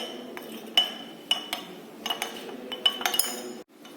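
A glass rod taps and clinks against the wall of a glass beaker while stirring an aspirin reaction mixture, giving a series of sharp, bright, irregular chimes close by with no voices.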